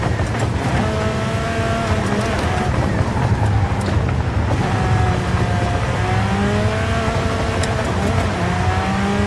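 A truck engine drones steadily in a driving video game, a continuous rumbling hum with shifting pitch as it accelerates, running throughout at a constant, fairly loud level.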